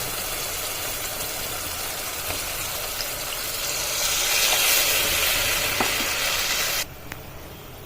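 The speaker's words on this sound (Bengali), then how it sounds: "দেখুন এখানে জল ডালার পর জলটা ফুটে উঠেছে" Water boiling in a pan of fish-roe kofta curry masala, a steady bubbling sizzle that grows louder midway, then drops suddenly near the end, with a few faint clinks.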